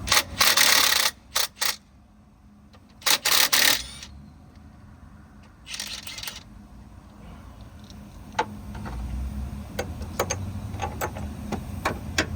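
Bolts come off the harmonic balancer of a 1995 LT1 engine: bursts of loud ratchet clicking early on, then quieter metallic ticks, taps and handling noises around the engine bay.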